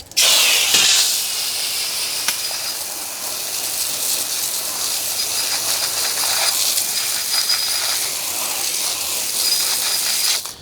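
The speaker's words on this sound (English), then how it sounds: "And I'm going to rinse it off." Water spray rinses a very dirty car wheel after cleaner has been applied, a steady, loud hiss running unbroken for the whole stretch with no talk.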